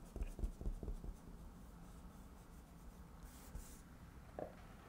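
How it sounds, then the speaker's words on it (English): A pencil sketches lightly on paper, close and quiet, with a few quick scratchy strokes at the start and then soft, faint rubbing against a low background hiss. "keeping the pencil pretty light, letting your lines be light touch"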